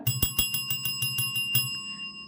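A bright bell sound effect rings in a quick run of about nine evenly spaced strikes, each leaving a sustained metallic shimmer, ending with a short fading ring, alone without voices.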